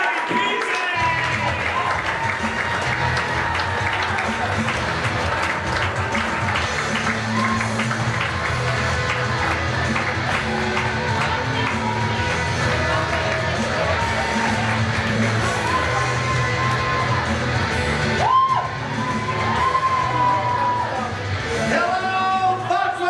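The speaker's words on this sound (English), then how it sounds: "start clapping your hands. Make some noise for the comedy magic of Johnny Pizzi!" A casino showroom audience at Foxwoods claps and cheers for a comedy magic act, with sustained applause, whoops and shouts, while a voice speaks over the noise.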